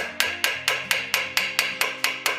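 A metal rivet being struck with a hammer on a rivet set, ten evenly spaced sharp ringing blows in a quick steady rhythm, close and loud with no talk.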